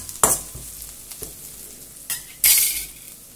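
Onions sautéing in oil in a pan while being stirred, with two loud scraping bursts near the start and end, a few fainter clinks between, and a low sizzle underneath; no talking.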